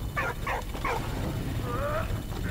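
A dog in the WWI video game Valiant Hearts gives a few short whimpers and yelps in quick bursts, close and clear, over a steady low rumble of background game noise.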